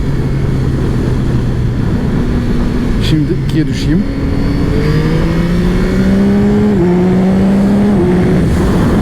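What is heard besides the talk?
motorcycle engine intake roar while revving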